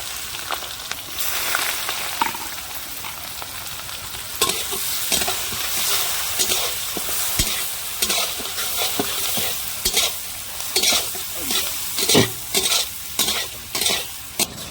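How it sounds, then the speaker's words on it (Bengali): Bay leaf, whole cumin and onion sizzle steadily in hot oil while a spoon stirs and scrapes the pan in repeated bursts, close up, with no voices. "ফোড়নে দিচ্ছি তেজপাতা, গোটা জিরে আর পেঁয়াজ।"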